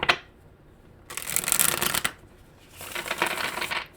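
Tarot cards are riffled and shuffled in two bursts of crisp, rapid flicking, close by, with a brief pause between them and no talking.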